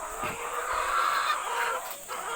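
Hens in a coop cluck noisily as they get ready to lay eggs, a steady, fairly loud chorus of overlapping calls that fills the whole stretch without any talking.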